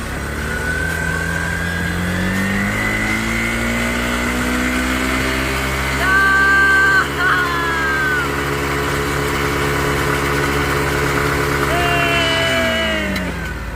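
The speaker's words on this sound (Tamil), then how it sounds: "ஓகே ரெடி, இன்ஜினை ஸ்டார்ட் பண்ணு." A small motorcycle engine driving a water pump idles and revs repeatedly, its pitch rising and falling in steady surges, loud and close.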